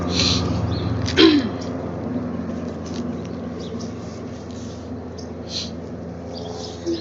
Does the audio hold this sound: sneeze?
yes